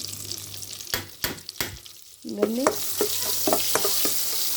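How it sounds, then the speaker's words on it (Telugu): Spices for talimpu tempering fry in hot oil with a steady sizzle, broken by sharp stirring scrapes and clinks, and a brief spoken word partway through. "తాలింపులు కాసేపు వేగనిచ్చుకోవాలి"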